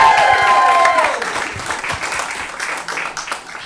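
An audience applauding for Una McMahon, a loud burst of clapping that thins and fades over a few seconds, with no spoken words.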